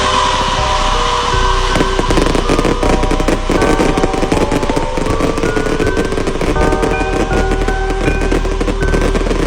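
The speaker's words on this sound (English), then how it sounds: "Howling fireworks." Howling fireworks shriek with rising whistles over rapid crackling bursts, a loud, sustained volley of overlapping pops and wails.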